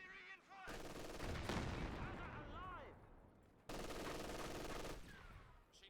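Heavy machine gun fire in the World War II strategy game Company of Heroes 2, two long sustained bursts of rapid rattling shots that cut off abruptly, with faint battle sounds between them.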